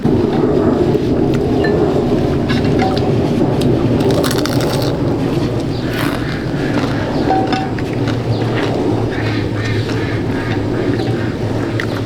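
Heavy rain pours steadily in a thunderstorm, a dense continuous roar with faint rumbles and scattered crackles, loud and unbroken throughout, with no talking.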